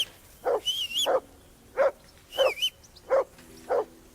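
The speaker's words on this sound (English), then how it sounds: "mutt of yours to stop barking" A dog in the video game Kingdom Come: Deliverance 2 barks repeatedly in single and double yaps at an uneven rhythm, fairly close, with faint high tones in between.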